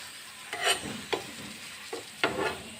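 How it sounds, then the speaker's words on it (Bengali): A radish paratha fries in oil on a pan, with a low, steady sizzle broken by four or five brief scraping and spatter bursts as it is pressed and turned, close and fairly quiet, no voices. "এভাবে আমি তেল দিয়ে দিচ্ছি এভাবে পাওয়াটা আস্তে আস্তে আস্তে আস্তে ভেজে নিতে হবে"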